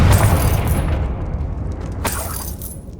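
Confringo fire spell blast in Hogwarts Legacy, a loud booming burst with a crackling, shattering tail that fades, followed by a second blast near the end.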